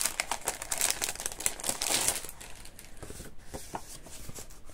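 A pack of scrapbooking paper being opened, with crinkly plastic wrapping rustling and crackling close by for a couple of seconds, then quieter handling.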